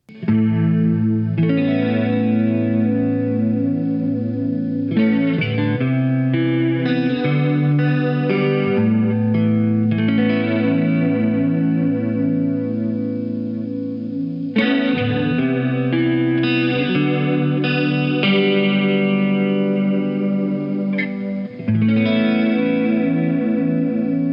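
Guitar chords through a Boss DC-3 Digital Dimension chorus pedal in mono, shimmering and wavering, played continuously with a short pause midway, full and steady in level.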